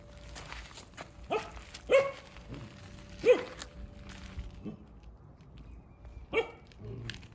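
A dog on farmland barks in several separate, spaced-out woofs over a quiet background, moderately close, with faint footsteps or shuffling between barks.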